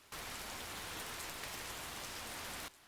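Steady, dense rain falls in a film scene, a constant hiss of drops pattering on surfaces that starts abruptly, holds evenly loud for over two seconds, then cuts off, with no voices over it.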